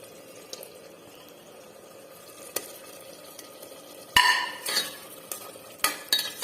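Scored eggs are stirred into masala in a pan: after a quiet stretch of faint background hiss, a sharp clatter starts the stirring, followed by intermittent scrapes and clinks of a spoon against the pan over a light sizzle.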